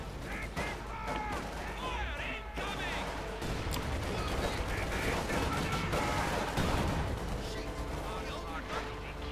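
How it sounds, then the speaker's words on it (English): Howitzer artillery fires in a Company of Heroes 2 battle amid continuous gunfire and explosions in a dense, busy game mix, with a commentator talking over it. "Go, howitzer firing. Straight to the base here."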